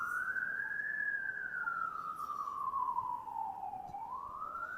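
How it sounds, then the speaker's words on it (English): An emergency vehicle siren wails steadily through downtown Regina in February, its pitch rising and falling in slow sweeps at moderate distance over faint street ambience, with no talk. "Hopefully nothing serious at the other end of that siren when it gets there."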